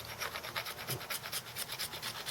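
Elk antler being scraped flat like a planer with a square-edged tool, a rapid series of short, close rasping strokes repeating steadily for a couple of seconds.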